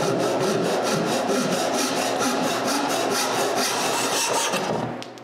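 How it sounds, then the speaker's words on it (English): A hand saw trims excess wood from glued lamp shade stiles with rapid, even back-and-forth strokes, loud and close, running steadily before stopping at the end. "I also cut the excess I left on the stiles."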